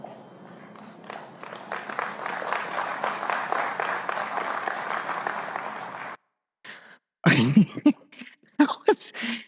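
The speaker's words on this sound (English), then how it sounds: "that was a full auditorium and it sounded like there were 6 people clapping" Thin, sparse applause from a full auditorium audience patters along for several seconds before dying out, followed by a few coughs and throat-clearing sounds.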